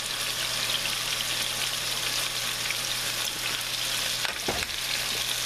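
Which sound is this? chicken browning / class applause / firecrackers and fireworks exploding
chicken browning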